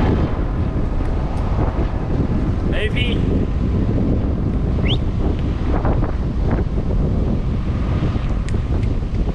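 Strong wind gusting outdoors on a farm during bale pickup and mowing, a steady broadband roar buffeting the microphone throughout, with a few brief voices calling out over it.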